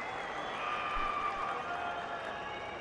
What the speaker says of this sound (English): whenever Babar hits a 4, there's just a little bit more noise from the crowd